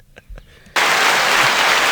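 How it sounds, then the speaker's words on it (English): A burst of crowd clapping from a sound button, a dense, sustained roar of applause that cuts in abruptly after a few faint taps and holds steady and loud to the end. "Crowd control. Clapping."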